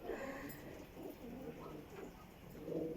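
Soft, low cooing from a German Beauty Homer pigeon, repeated a few times against a faint background hiss.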